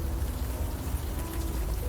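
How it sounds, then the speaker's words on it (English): Rain falls outside in the Unavowed video game, a soft, steady patter and hiss on surfaces, quiet and continuous, with no one talking. "It's raining outside, is that okay?"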